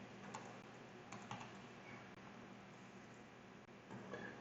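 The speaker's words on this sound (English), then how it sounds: "I type in my name, type in my email address." Keystrokes on a computer keyboard tap out a name and email address in a quiet room, with sparse, soft clicks and small clustered bursts over low background noise.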